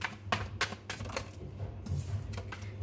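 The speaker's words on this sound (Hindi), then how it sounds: "चलिए अब टैरोट से कुछ कार्ड्स निकालते हैं" Tarot cards are drawn and handled in a quiet room, giving a series of short, soft, crisp flicks and slides at irregular intervals, close and faint.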